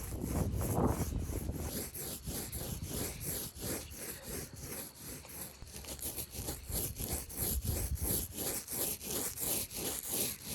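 Paintbrush strokes painting over weather stripping on a 2002 Coleman pop-up camper, a faint, steady brushing scrape repeating in quick back-and-forth strokes, close by.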